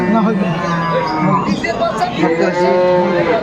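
Cattle lowing at a busy Bangladeshi livestock market where cows with calves are sold, loud moos rising repeatedly over a steady hubbub of crowd chatter and nearby voices.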